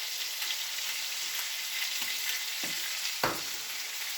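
Sausage and potatoes seasoned with garlic powder, salt, pepper, onion salt and Sazon fry in a pan, giving a steady close sizzle throughout with a few soft stirring scrapes near the end.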